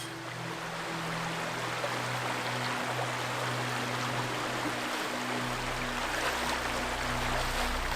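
The Serpent River flows through a rocky gorge at low late-summer levels, giving a steady broadband rush of water with a faint low hum underneath and no voices.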